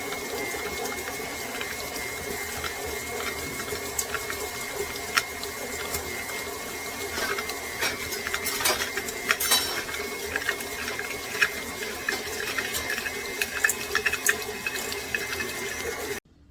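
Butter and sugar being creamed together with an electric mixer, a constant whirring motor hum with slight rattling that runs steadily for about sixteen seconds before cutting off, no talking.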